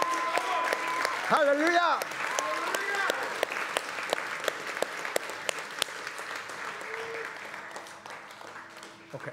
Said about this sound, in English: give him a shout and a clap